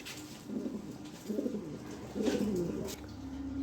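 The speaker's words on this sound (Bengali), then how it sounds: "হ্যাঁ, লাহোরি কবুতর।" Lahori pigeons cooing nearby in several soft, low, throaty bursts, each a rolling run of coos, separated by short pauses with no talking.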